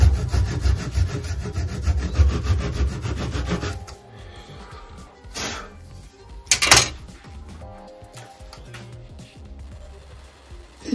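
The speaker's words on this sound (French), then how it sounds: "je vais prendre une scie plus grosse maintenant" A larger hand saw cuts through rosewood while a plane-adjusting screwdriver is being made, giving rhythmic rasping strokes for the first few seconds, then lighter scraping and handling sounds.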